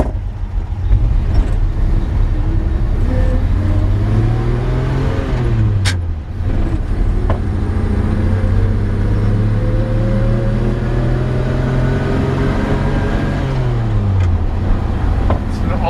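A 1954 Chevy 3100 shortbed pickup, an original matching-numbers barn find with a four-speed gearbox, idles loudly up close with a steady rumble and two slow rises and falls in revs, while someone talks over it.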